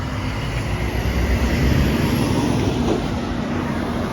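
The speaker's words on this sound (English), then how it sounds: "Here comes a noisy truck." A loud logging truck rumbles past on a small-town street in Bennington, New Hampshire, its heavy, steady engine roar filling the scene up close throughout.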